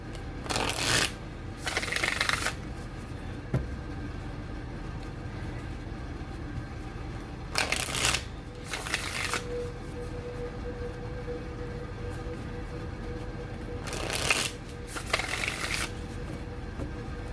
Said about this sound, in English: even the way it shuffles, the cardstock is very flexible